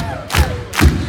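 A concert crowd at a show in Energylandia claps overhead in unison: two loud, evenly spaced collective claps with a full, thumping body and a faint crowd murmur between them.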